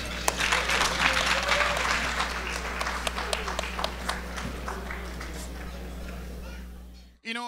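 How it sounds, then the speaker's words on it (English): An indoor audience at a Nigeria Night event in Halifax applauds African drummers on stage with sustained clapping that gradually thins before ending abruptly. "Round of applause for Olugu."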